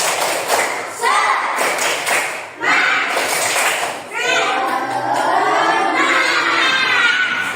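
A school class performs the rhythmic 'tepuk semangat' spirit clap, sharp patterned hand claps mixed with children's voices chanting and shouting along, fairly loud and close, in bursts that build into a sustained group chant.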